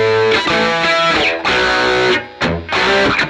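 An electric guitar plays through a Marshall SV20 cabinet loaded with vintage Greenback speakers, with an open back. Loud, driven chords ring out in sustained bursts separated by brief gaps.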